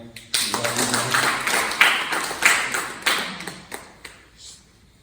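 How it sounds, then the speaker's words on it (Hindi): Applause from an audience at an Indian community honouring ceremony in Chandigarh, a dense patter of many hands starting abruptly, swelling and holding, then thinning out and fading toward the end. "इनके लिए भी तालियां।"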